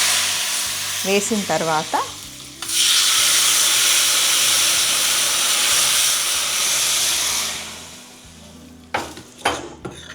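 Tempering spices hit hot oil for Telangana pachi pulusu, a sudden loud sizzle that hisses steadily for several seconds and then fades, with someone speaking briefly before it and again after it dies down.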